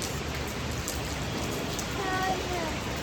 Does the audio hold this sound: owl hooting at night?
no